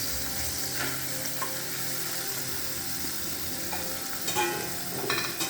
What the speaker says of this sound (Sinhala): සුදු ලුණු පොතුත් එක්ක තමයි මේ අපි බැදගන්නේ